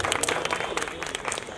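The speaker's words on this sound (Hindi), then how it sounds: "तो एक बार जोरदार ताली।" Short burst of dense audience clapping at a seminar, fairly quiet and continuous for about a second and a half, with faint voices mixed in.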